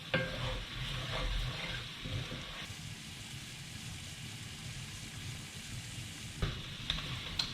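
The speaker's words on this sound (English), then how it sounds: "let's give that a bit of a stir around as well" Sauce bubbles in a pan of crab linguine while a spoon stirs it, quiet sizzling under bursts of stirring scrapes and clinks at the start and end, with no talking.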